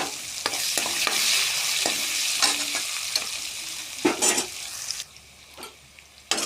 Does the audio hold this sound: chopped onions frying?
yes